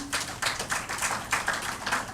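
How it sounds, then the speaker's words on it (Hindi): Audience applause welcoming guest speaker BK Anjali at a Brahma Kumaris team-building talk, a steady patter of many hands clapping with rhythmic swells, fairly close and filling the space without voices. "अंजलि बहन जी का स्वागत हम करकल ध्वनि से करेंगे, जोरदार तालियों के साथ"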